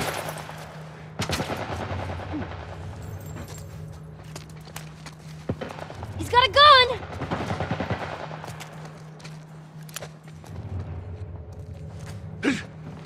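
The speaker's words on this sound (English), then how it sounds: "Some kind of military turret." Military turret gunfire in The Last of Us Part 1 game, heard as scattered sharp shots and short bursts, mid-distance, with louder cracks in the middle and movement noises between.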